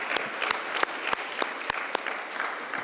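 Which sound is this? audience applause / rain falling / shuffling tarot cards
audience applause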